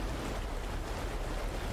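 A waterfall in the video game Grow: Song of the Evertree, a constant full rushing wash of water with a low, airy rumble and no breaks or speech.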